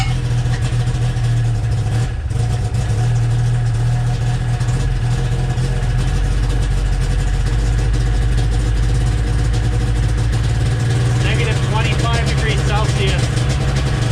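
Snowmobile engine runs steadily while grooming winter trails at -25°C, a loud continuous low drone with a rough mechanical buzz close by, and a phone ringtone chirps briefly toward the end over the engine.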